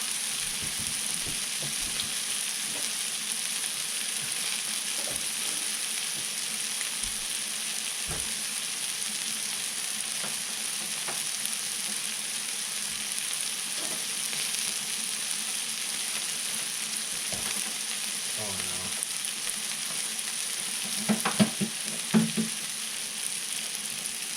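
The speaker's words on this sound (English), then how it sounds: "Shift the pan a little bit. Looks like the egg isn't cooking that fast." Egg and sausage fry in a pan for a bagel sandwich, a steady hiss of sizzling fat running throughout with a few faint scrapes and clinks of the pan near the end.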